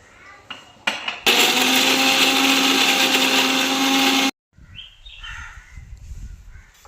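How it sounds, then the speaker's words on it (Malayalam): A mixer grinder whirs loudly for about three seconds grinding spices and green chili paste, then stops abruptly; brief clatter before it starts and faint bird calls outdoors after it stops. "ഇത് ഞാനൊന്ന് അരച്ചുകൊണ്ട് വരട്ടെ"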